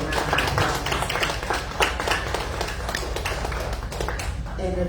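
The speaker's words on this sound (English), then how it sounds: "give them a round of applause" Audience at a school board meeting applauds parents who stand to be recognized, a steady, dense wash of clapping from a room full of people throughout, with some murmuring mixed in.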